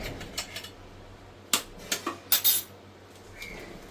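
Two eggs with salt and pepper being beaten in a bowl, with a few quick clinking strokes of utensil against dish in short bursts separated by quiet gaps.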